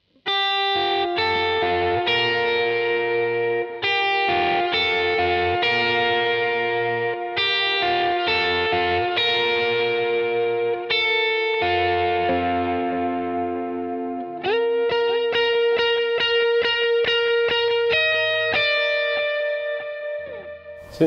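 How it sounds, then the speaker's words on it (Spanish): A guitar run through a TC Electronic Flashback x4 delay pedal with no reverb, plucked notes and chords sounding continuously and loudly, each attack trailed by clear repeating echoes. "Sin reverb sonaría así."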